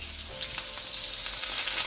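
Beets being stir-fried in a tablespoon of olive oil in a pot produce a loud, close, steady sizzle with light crackling for the whole moment.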